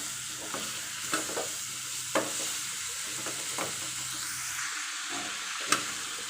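Chopped green pumpkin sizzles and hisses in a hot pan while a spoon scrapes and stirs it in short, irregular strokes, with a steady frying hiss underneath.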